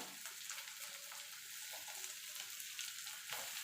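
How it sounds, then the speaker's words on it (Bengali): Spices stirred and fried in a pan while making vegetarian potato chops, giving a steady soft sizzle with light scraping of stirring throughout, fairly quiet and close with no talking. "এবার মশলাটাকে একটুখানি নাড়াচাড়া করে নেব যাতে মশলার কাঁচা গন্ধটা চলে যায়"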